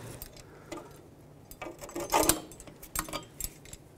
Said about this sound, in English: I'm going to use some pliers, pull the spring back, and then slide the cable down into the groove here of this hook